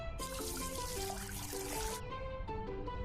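Water pours steadily from a spout into a gardener's watering can, a continuous trickling rush with light music underneath, lasting about two seconds before it stops.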